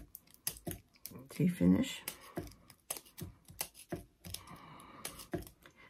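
Scissors cutting glittered paper for the center of a paper Flanders poppy, a series of close, crisp snips and clicks in an irregular rhythm, with a person briefly talking over them.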